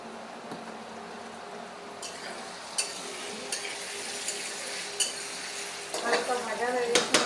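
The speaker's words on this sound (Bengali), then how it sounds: "হালকা ভাজা হয়ে গেছে পনিরটা," Paneer pieces fry in oil in a pan while a spoon stirs and scrapes, giving a steady soft sizzle with irregular clinks and scrapes; the sizzle grows louder and more bubbly toward the end.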